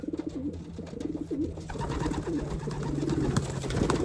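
Racing pigeons cooing in a loft, repeated soft rolling coos close by, with rustling and a steady rising background of flock noise.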